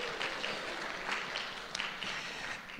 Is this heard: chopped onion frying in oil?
no